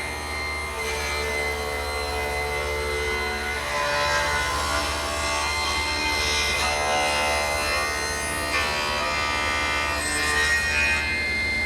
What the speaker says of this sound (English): So what I'm going to have to do is rip this in half.